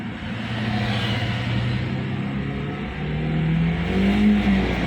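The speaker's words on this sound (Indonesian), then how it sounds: "Setelah selesai kita lakukan pengegasan beberapa kali." Toyota Avanza with a 1300 cc engine revved repeatedly while parked, a steady close engine roar that climbs in pitch toward the end, with no voices over it.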